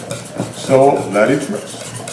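Hungarian crepe batter is whisked together in a bowl, with close, steady stirring and clinking of utensil on the bowl, and a voice speaking briefly over it.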